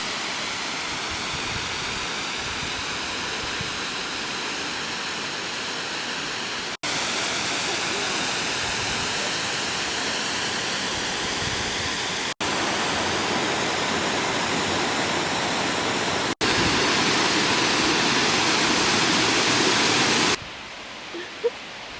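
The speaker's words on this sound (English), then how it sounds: "This waterfall is certainly gorgeous, and like I said earlier, it is the tallest waterfall in Ireland." Powerscourt Waterfall in County Wicklow, the tallest in Ireland, pours in a dense, steady roar of falling water, loud and close, recorded in several cuts with brief shifts in level between them.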